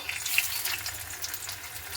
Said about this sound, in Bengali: আবার আমি বাকিগুলো ভেজে নেবো